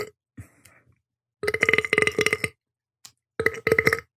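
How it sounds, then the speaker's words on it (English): A person lets out a long, loud, gurgling burp close to the mic, preceded by a few faint throat noises and followed by another shorter burp. "That's a good burp."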